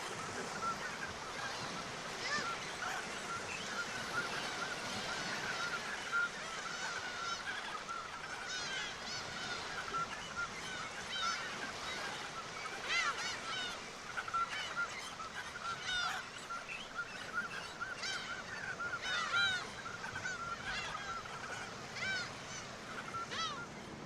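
A large cormorant colony on the Ushkany Islands of Lake Baikal keeps up a continuous chorus of harsh honking and croaking calls, many birds at a middle distance over a steady background wash.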